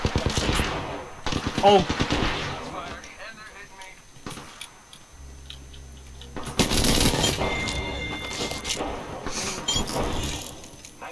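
Video game gunfire in Apex Legends: loud bursts of rapid automatic fire, single shots and clinking shell and glass sounds, close and intense, with players talking over the action.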